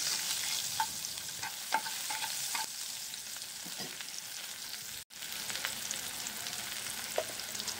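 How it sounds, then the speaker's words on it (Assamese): Onion fries in oil in a pan after fish has been fried for an Assamese fish curry, giving a soft steady sizzle with occasional light stirring scrapes and clicks, and no talking. "ভাজি লম ৰঙচুৱা হোৱালৈকে"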